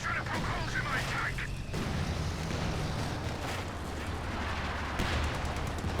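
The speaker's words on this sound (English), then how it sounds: "Then comes the Sturmovik Strafe." A Sturmovik aircraft strafe attack in Company of Heroes 2 rumbles through a dense stretch of loud gunfire and explosive bursts, with heavy low booming and sharp impacts close by.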